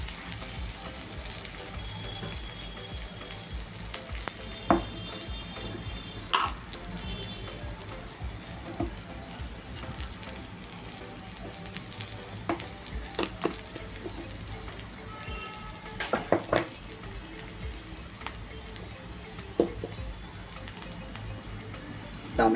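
Onion softening in a pan for a village-style brinjal curry, a quiet continuous sizzle with crackles and occasional sharp clicks from stirring, close by and steady for about twenty seconds, with no voices.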